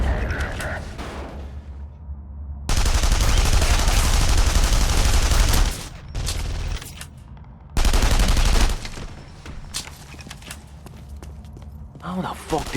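In The Saboteur, bursts of dense sniper and automatic gunfire ring out loud and close in two long fusillades, with scattered mechanical clicks and a shouting voice between volleys.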